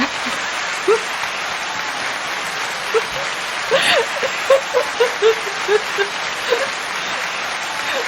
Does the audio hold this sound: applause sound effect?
yes